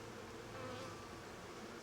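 A dense, even drone of honey bees inside a well-settled hive, faint and unbroken across a short stretch with no voices.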